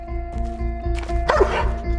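A guard dog barks in repeated close bursts over a steady low hum, with a louder, busier stretch of yapping near the end.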